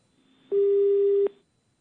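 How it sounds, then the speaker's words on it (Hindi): Single steady telephone tone after a call is cut off: one clean electronic beep lasting under a second, starting and stopping abruptly, loud against near silence. "फोन कट डिस्कनेक्ट कर दिया"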